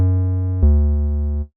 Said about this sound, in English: And then next we can add in an 808 bass line.